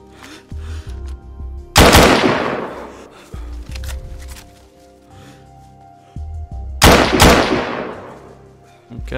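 Two loud sniper rifle shots crack out in the video game DayZ, several seconds apart, each a sharp blast trailing off into a long echoing decay over a low rumbling game ambience.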